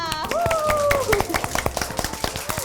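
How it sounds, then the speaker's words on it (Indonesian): Small group of children and a host clapping hands after making bread pizza in an online Sunday school kids club, quick scattered claps mixed with cheerful voices and a high sung or squealed cheer. "Tepuk tangan dong buat kita"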